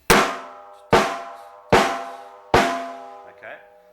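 Four single snare drum strokes ring out evenly spaced, each a sharp, loud crack with a long buzzing decay. A faint soft sound follows the last stroke, and no one speaks.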